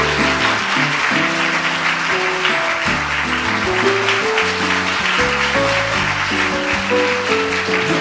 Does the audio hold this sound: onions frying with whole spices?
no